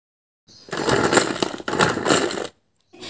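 Electric food chopper fitted with a whisk blade: the motor whirs up after a short silence, runs steadily for about two seconds with a brief dip, then cuts off before a short restart.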